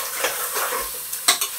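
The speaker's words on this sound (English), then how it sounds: "Once we finish frying off the chicken," Chicken pieces fry and get stirred in a pan while being browned for a Sri Lankan curry, giving a close, bright sizzle broken by a few sharp scraping stirs near the end, with no voices.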